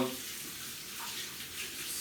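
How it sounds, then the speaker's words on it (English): Hot water running from a kitchen tap while preparing bread dough, a steady hissing rush at low volume with no talking. "So, run the hot tap."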